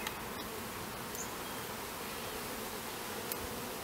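Bees from a relocated feral hive hum in a dense, continuous buzz, steady and fairly faint, with no talking.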